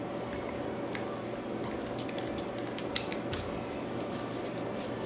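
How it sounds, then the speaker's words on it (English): Small creaking, clicking mechanical turns as a part of an Empire Vanquish paintball marker is unscrewed, close and fairly quiet over a steady background hiss. "You just unscrew it."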